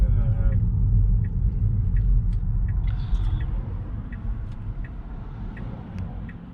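A car rolls into a campsite at Kviltorp near Molde, a steady low engine and tyre rumble close by, with faint ticking above it and no talk.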